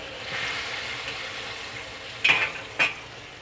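Fish and tofu simmer in sauce in a claypot with a soft, steady bubbling sizzle, broken by two brief clinks of a utensil against the pot near the end.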